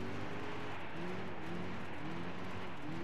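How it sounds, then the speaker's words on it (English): A car engine in the Gran Turismo 6 racing game revs and wavers in repeated rising and falling sweeps as the car drifts after a popped clutch, steady and moderately quiet with a hissy background. "Pop that clutch, let's drift it."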